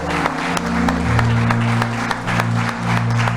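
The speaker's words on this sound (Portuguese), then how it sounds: "E vamos aplaudir o nosso Deus." A church congregation applauds God during a Portuguese-language service, a steady wash of clapping over sustained music tones and a low hum, loud and continuous throughout.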